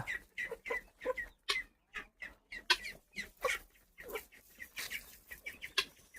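Chickens clucking after their coop is opened, a string of repeated close clucks and short calls in irregular rhythm from several birds, moderately quiet.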